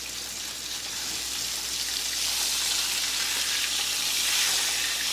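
Smoked sausage and hamburger patties sizzle steadily in a pan, a dense, even crackle that holds close and loud throughout with no voices.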